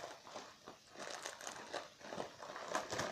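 A slime kit package being opened, with close, quiet plastic crinkling and rustling in irregular bursts over a few seconds and no talking.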